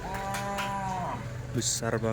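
A large former Madura bull-racing (karapan sapi) cow moos loudly and close by, a long low call, with people talking briefly in the background.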